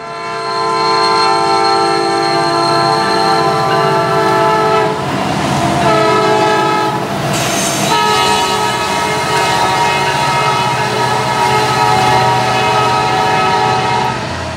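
A loud, sustained multi-tone worn P5A train horn blowing continuously, slightly thin and reedy like a flute, with a brief shift midway and rail rumble underneath.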